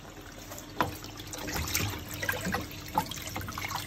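Water runs and trickles steadily while an RA-4 color photographic print is washed in a darkroom, with a few soft splashes and drips over the low continuous flow.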